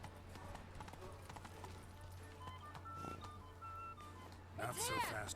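Roach the horse gallops in Witcher 3, a steady run of hoofbeat clip-clops with a whinny near the end, under game music and someone talking.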